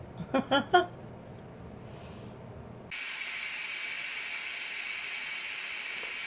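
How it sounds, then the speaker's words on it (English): A Nesco electric pressure canner abruptly shoots out a steady, loud steam hiss that continues without pause, after a few seconds of quieter sounds with a few short voiced bursts near the start. "apparently it's quite normal for this little guy to shoot out little bits of steam"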